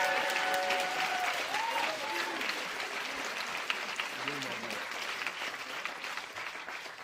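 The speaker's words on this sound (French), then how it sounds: "On peut applaudir." Rally audience at a French workers' political meeting applauds, a steady, fairly distant wash of clapping from a large crowd with some voices and shouts mixed in, holding through to the end.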